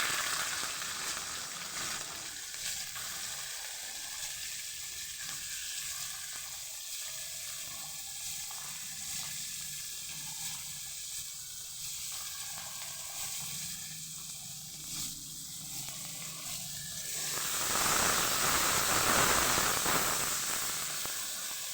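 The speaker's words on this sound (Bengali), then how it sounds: "বিনসগুলো যখন এই পরিমাণ ভাজা হয়ে গেছে" Beans frying in oil and ghee, a continuous close sizzle that swells louder toward the end, with no voices over it.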